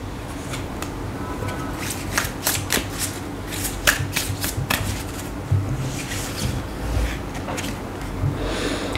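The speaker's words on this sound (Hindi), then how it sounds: "आप लोगों के लिए गाइडेंस कार्ड्स पहले पुल आउट कर लेते हैं क्या आ रहे हैं।" Tarot cards are shuffled by hand up close, with a run of quick riffling flutters and soft slaps that come in bursts over a low room rumble and carry on for several seconds.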